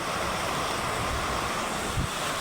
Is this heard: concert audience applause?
no